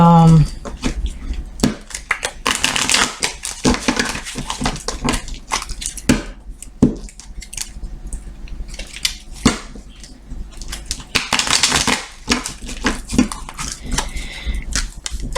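A tarot card deck is cut and shuffled by hand, producing bursts of crisp, papery riffling and slaps in uneven clusters, with a voice talking between them.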